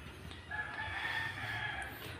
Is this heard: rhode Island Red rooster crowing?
yes